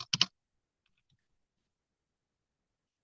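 A few quick clicks from a computer keyboard as a search word is typed, a short burst at the very start followed by near silence.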